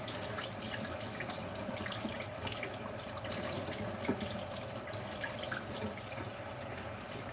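Tap water runs steadily into a sink while a makeup brush is swirled and rinsed under it, a soft continuous splashing, close and fairly quiet, with no talking.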